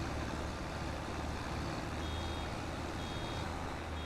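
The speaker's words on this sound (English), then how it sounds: "I hate that beeping sound so much." Continuous truck reversing beeps in the video game Farming Simulator 25, a steady high-pitched alarm held over a loud, dense engine rumble with no speech.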